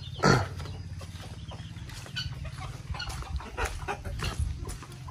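A hen clucks on a small Brazilian farm where chicks are hatching, with a sharp cackle near the start and then low, steady clucking close by and without talk.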